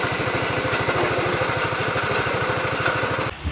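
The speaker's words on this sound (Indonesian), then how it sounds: "mesin pulper ini yang akan nanti mengupas kulit ceri merah kopi ini untuk menjadi gabah" Coffee pulper machine running steadily at close range, its small engine chugging in a fast, even rhythm as it peels red robusta coffee cherries, the drone continuing unbroken before cutting off sharply near the end.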